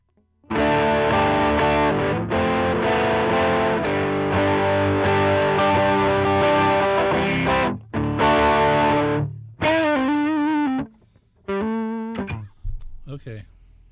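An electric guitar played through a Line 6 Helix distortion effect rings out with thick, sustained overdriven chords and notes, close and loud, broken by brief pauses and ending in sparser, wavering phrases.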